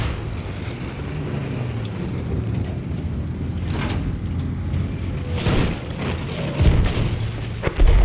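Booming blasts and crunching impacts from an explosion in the video game Battlefield 1, over a rumbling engine-like drone, with a sharper burst near the end.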